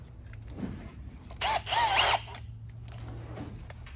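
A power drill whirs in a short burst of about a second, recutting slots in a car body panel, amid quiet background noise and faint clicks, fairly close by.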